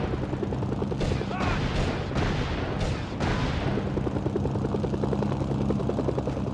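A steady rhythmic helicopter rotor thrum in Mercenaries 2: World in Flames on PS2 runs throughout, joined midway by several sharp booms and bursts of gunfire.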